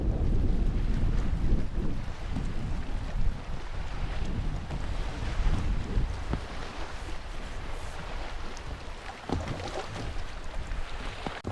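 Steady wind blows onshore at a lake, roaring continuously into the microphone with gusty low rumble and a faint wash of water throughout.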